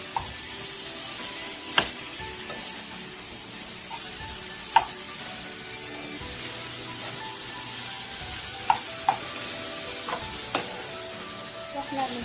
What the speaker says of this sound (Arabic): دلوقتي هنقلبهم مع بعض.